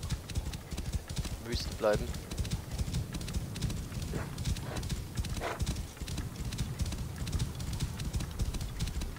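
Horse hooves clip-clopping in the Assassin's Creed Origins video game, a steady rhythmic trot under a voice speaking German, with a brief whinny from the horse.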